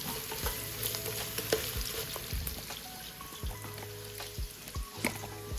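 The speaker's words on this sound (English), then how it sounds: "go in with the onions" Onions going into a pan for a mutton and beef curry, giving a quiet crackling fry with scattered pops and thumps of the utensil against the pan, close but low in level, no voices.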